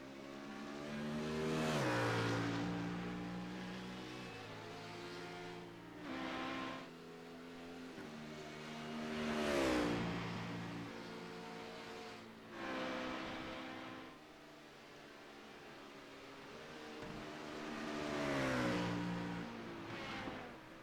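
Race car engines revving on a circuit during a main event, swelling and fading in repeated waves as cars accelerate, shift and pass at moderate distance.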